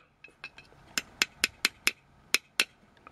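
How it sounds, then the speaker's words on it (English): A hammer taps a pin out of a rear drum brake shoe on a Toyota Corolla, Matrix or Pontiac of the 2003–2008 era, giving about a dozen sharp metallic strikes, light at first, then harder and evenly paced, close by. "So this pin can be removed. Okay, so just hammer it out."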